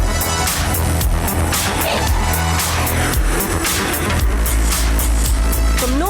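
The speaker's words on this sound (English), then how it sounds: "A short race between the two, over just 1 kilometre, shows how powerful this sports car really is." A sports car races over a one-kilometre distance, with loud, busy engine noise throughout, repeated bursts and possible tyre squeal, and a deep rumble building near the end.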